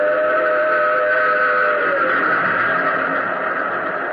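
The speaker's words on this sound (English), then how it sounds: "roared a train. Tore by me in a deafening roar." A loud, sustained roar of a train with a droning whistle-like tone, steady and close throughout.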